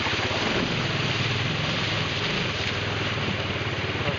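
A motorcycle carrying a pillion passenger fords the flowing Murray River, with steady rushing water and broadband wash filling the scene and wind buffeting the microphone, no speech over it.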